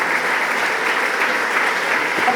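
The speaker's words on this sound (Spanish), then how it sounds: "Un aplauso para todas as mulleres e homes que conforman esta asociación." An audience at a cycling club gala applauds, a steady, even wash of clapping from a sizeable crowd that holds at a constant level throughout.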